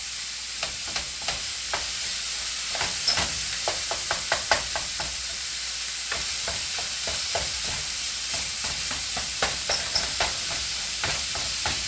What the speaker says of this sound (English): the pan's pretty hot, you know? We're getting some really crispy brown bits.